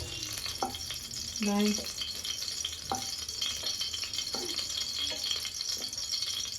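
Soft sizzling of cut spicy eggplant frying in oil, fairly quiet and continuous, with a few brief clinks and faint background noise.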